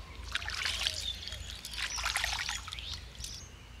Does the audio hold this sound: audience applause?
no